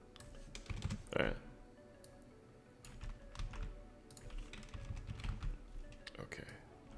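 Someone types on a computer keyboard while coding a browser game, a close run of uneven clicks and key taps in short bursts, with brief speech mixed in.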